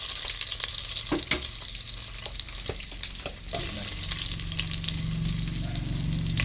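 Garlic sizzles steadily in a hot pan for tinolang chicken, a bright continuous fry with occasional stirring clicks and scrapes, the sizzle swelling louder partway through.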